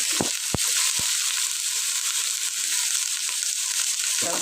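Vegetables and fish fry in a pan with a steady, close, bright sizzle that runs throughout, broken near the start by a few sharp clatters of a utensil against the pan.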